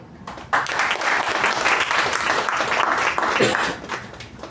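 A huge round of applause from the audience at a Toastmasters installation ceremony, starting abruptly and holding as steady dense clapping, with a voice briefly audible partway through.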